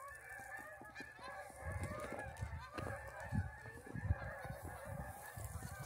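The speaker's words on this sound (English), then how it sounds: "Look at all the geese." A large flock of geese honks continuously outdoors, many overlapping calls close and loud, with no talking among them.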